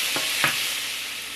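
Tomatoes sauté in a hot pan for an egg and tomato stir fry, giving a steady close sizzle with two short scraping stirs near the start.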